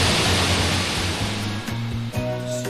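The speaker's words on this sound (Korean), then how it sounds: "빙하가 녹아서 흘러내리는 폭포입니다." Glacier meltwater waterfall pouring into a valley beneath a swaying Himalayan suspension bridge, a steady broadband roar of rushing water with low tonal rumbles and a faint hum underneath.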